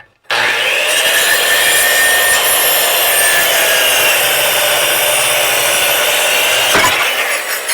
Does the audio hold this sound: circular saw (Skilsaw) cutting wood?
yes